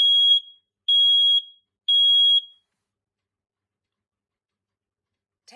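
A household smoke alarm sounds three loud piercing beeps in even rhythm during a test, each about half a second long, then silence before a faint voice at the very end.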